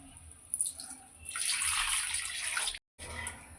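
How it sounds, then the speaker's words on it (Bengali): Warm water pours into a pan of cooking fish curry masala in a steady splashing stream lasting about two seconds, followed by a brief cut and a softer trickle. "এর মধ্যে আমি একটু গরম জল দিয়ে দেবো"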